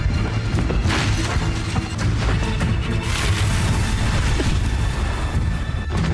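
An explosion in the anime Lord of Mysteries plays as a loud, dense series of booming crashes and impacts that fill the whole stretch without a break.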